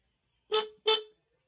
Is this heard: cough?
no